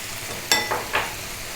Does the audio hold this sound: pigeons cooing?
no